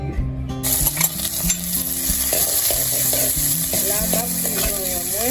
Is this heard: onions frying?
yes